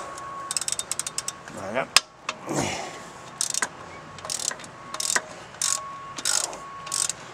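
Ratchet wrench with a 17 mm socket loosening a nut during engine removal on a Mercedes 190 Evo I, giving short clicking ratchet bursts mixed with metal clanks, close up, with a brief spoken word.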